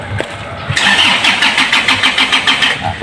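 An engine with a grounded magneto valve wire cranks briefly, then catches and roars into a steady, loud idle with a rapid rumbling pulse.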